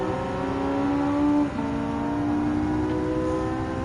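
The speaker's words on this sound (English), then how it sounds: "currently driving in the Porsche 911 GT3 2009" Porsche 911 GT3 2009 engine in Gran Turismo 7, a steady high-revving whine held at full throttle with a brief dip from a gear change, loud and alone.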